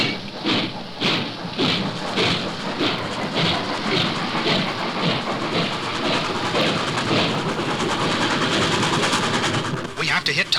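A steam locomotive picking up speed rumbles and clatters with rapid rhythmic chuffing, building steadily, with a hiss rising near the end.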